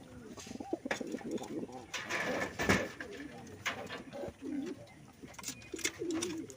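Pigeons coo repeatedly in a home loft holding brown, black and silver breeding pairs, their soft throaty calls overlapping close by with a low murmur of background activity.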